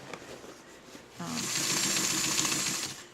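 A DRESSMAKER 2000 sewing machine runs a zig-zag stitch down a fabric side seam, a steady close mechanical whir with rapid needle ticking that starts abruptly after a quiet moment and continues to the end.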